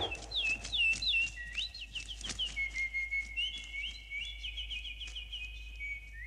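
A voice whistles bird-like chirps and warbling calls in an animated comedy, imitating a bird, the tones close and fairly faint over a soft background hum.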